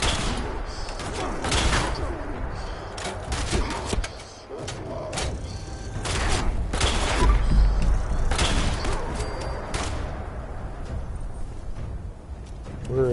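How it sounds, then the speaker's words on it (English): Gunfire in a Fallout 76 firefight, with repeated shots and bursts crackling through a dense, busy mix of game noise across the whole stretch, loud and close, with voices underneath. "He's shooting at me"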